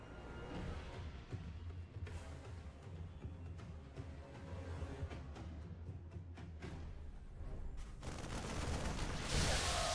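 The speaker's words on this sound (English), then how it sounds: "A few Marines continue to fire through." Marines firing rifles in StarCraft 2 during a Terran versus Zerg match, a dense, continuous rattle of rapid gunfire with scattered sharper bursts, loud and steady throughout and growing busier toward the end.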